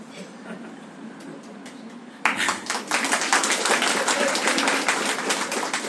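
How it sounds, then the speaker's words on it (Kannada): An audience at a talk breaks into sudden loud applause after a quiet opening, the dense clapping continuing steadily to the end. "ಯಾಕೆ ಅಂತ ಕೇಳದೆ ಚಪ್ಪಾಳೆ ಹೊಡೆದಿದ್ದೀರಿ"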